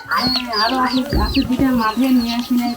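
Chickens cluck and chatter close by in repeated short calls in a village on the Bangladesh-India border, mixed with people talking at the same time.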